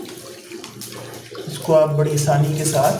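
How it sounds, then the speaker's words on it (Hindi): Tap water runs gently while air conditioner parts from a Haier DC inverter unit are being cleaned, a soft splashing flow that grows louder partway through as someone talks over it. "इस तरह पानी खोलें और आहिस्ता आहिस्ता, छींटे नहीं उड़ानी"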